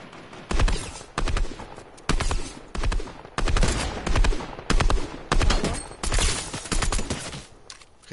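Rapid gunfire in the Fortnite video game comes as repeated loud bursts of shots, about a dozen rhythmic clusters spread evenly with short gaps between them.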